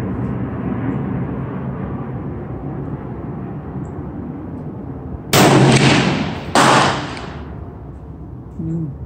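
Two sharp, loud rifle shots from a TC Compass 6.5 with no barrel stabilizer crack a second apart outdoors, each ringing out briefly over a steady low rumble of wind or distant engine noise.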